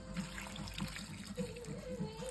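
Water pours steadily into a cooking pot holding spices such as turmeric, chili powder and salt for Thiruvathira puzhukku, a continuous close splashing stream with a faint hum behind it.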